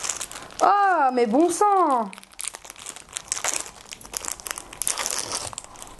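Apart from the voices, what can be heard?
unwrapping crinkly packaging of bracelets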